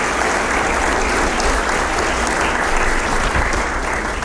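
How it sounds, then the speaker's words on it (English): Loud, sustained audience applause at the Windsor Shad Derby coronation event, a thick, continuous wall of clapping from a large indoor crowd, with no talking. "So can we just give everybody a round of applause for that?"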